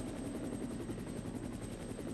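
Helicopter in Resident Evil idling with a fast low rotor pulse and a thin high whine, steady and fairly quiet with no talk.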